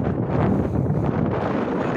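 Wind blows hard across the microphone outdoors in Vlore, Albania, a loud, continuous low roar and rumble that buffets without pause, with no voices over it.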